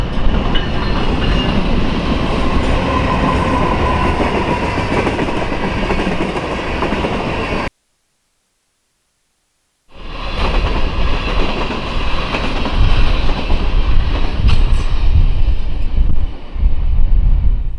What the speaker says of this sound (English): a BNSF oil train showed up